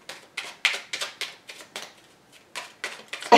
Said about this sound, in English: shuffling this tiny deck is like shuffling stamps